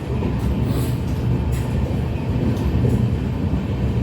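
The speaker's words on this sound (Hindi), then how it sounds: "ट्रैक पर से हमारी ट्रेन दौड़ती चली जा रही है।" The Vistadome tourist train runs along the track between NJP and Alipurduar, producing a continuous loud rumble with rattling wheels and carriage noise throughout and no voices.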